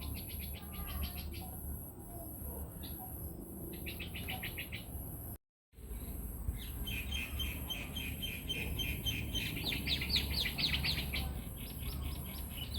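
Outdoors, birds circling in the sky keep up a bright chirping, calling in quick repeated bursts over a steady background hiss, with a brief moment of dead silence partway through.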